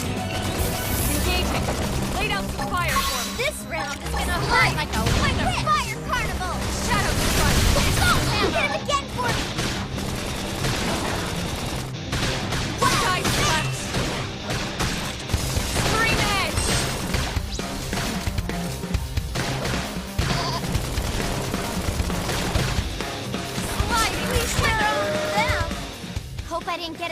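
Gunfire and impacts during a battle in the video game Xenoblade Chronicles X, dense crashing shots running continuously for the whole stretch, loud and layered with music and voices talking over it.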